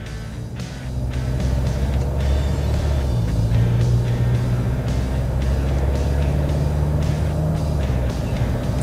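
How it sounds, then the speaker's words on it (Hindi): A Tata Safari SUV accelerates past 60 km/h on a marked road, giving a steady, loud engine and road drone from inside the cabin that builds slightly and holds. No one speaks. "मैं गाड़ी की स्पीड करता हूँ 60 के अबव"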